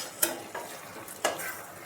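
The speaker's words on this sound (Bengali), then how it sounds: "এবার এগুলো মিশিয়ে দিতে হবে ভালোভাবে।" Hilsa fish head being stirred with ash gourd in a pan over a raised gas flame: a few soft scraping stirs with faint sizzling, quiet and close, with no talking.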